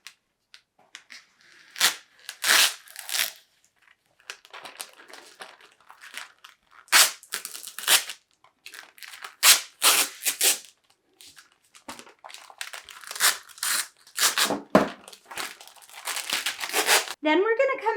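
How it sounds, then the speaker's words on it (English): Vinyl transfer tape is peeled up from a wooden porch sign in close, crinkly tearing bursts separated by short pauses, with a person talking in between. "And then we're going to peel up that transfer tape."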